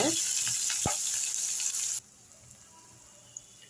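Paneer gravy ingredients with softened tomato fry in a pan, giving a steady broadband sizzle for about two seconds that then cuts off abruptly, leaving quiet room noise and one faint clink.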